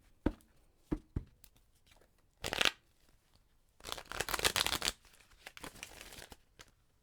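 Oracle cards being shuffled by hand, a few quick close taps followed by longer riffling bursts, soft and intimate in a quiet room.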